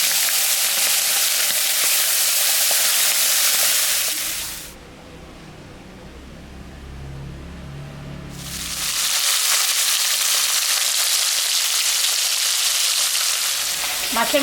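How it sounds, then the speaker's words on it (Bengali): A salted, turmeric-coated rohu fish head fries in hot mustard oil in a kadai with a loud, dense sizzle. The sizzle drops away for a few seconds in the middle, leaving a low rumble, then returns just as strong. "মাছের মাথাটা এখন আমি ভাজবো"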